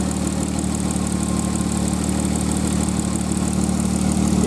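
1995 Nissan Maxima engine idling almost warmed up, a steady even hum with a faint rapid ticking from the injectors running through it, close by and constant.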